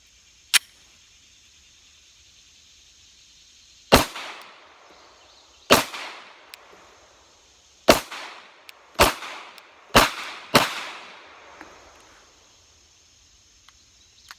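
Glock 43 pistol with an extended magazine fired at a range: one sharp shot, then a pause, then six more cracks at uneven intervals, each with a short ringing tail, over a faint steady background tone.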